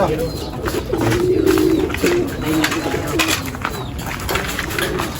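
Racing pigeons coo in low, repeated burbling calls amid steady background noise and rustling.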